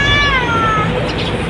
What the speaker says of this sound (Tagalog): Gutom din itong pusa ito.